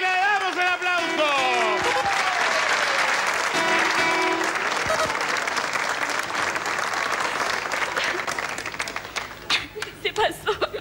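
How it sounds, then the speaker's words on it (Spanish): A television studio audience on a Spanish-language variety show breaks into loud, sustained applause as a contestant wins a four-door car; music plays at the start and a host's voice comes in as the clapping thins out near the end. "le damos el aplauso"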